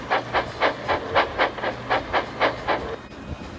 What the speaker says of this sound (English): He was in a long goods train.